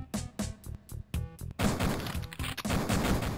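Rapid bursts of gunfire from Duke Nukem 3D blasting at turrets, starting as a string of loud separated shots, then breaking into a dense, continuous barrage up close.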